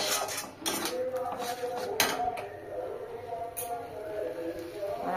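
Fried spices and coriander leaves are stirred in a pan in a small home kitchen: steady metallic scraping and clinks of a spoon against the pan, with a few sharper knocks and a voice faintly in the background.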